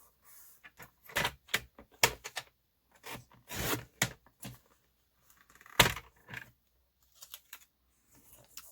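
A cutter trims a sheet of cardstock in half along its fold line for a sunflower card, making a series of short scraping and sliding strokes with a few sharper clicks, close by with quiet gaps between.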